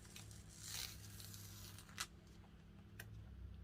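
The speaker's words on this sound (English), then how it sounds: "we're going to remove the tape first" Masking tape peeled off a stenciled Christmas decoration surface, heard as a soft, steady tearing and crinkling with one sharp rip near the middle and smaller ticks, close and quiet, with no talking.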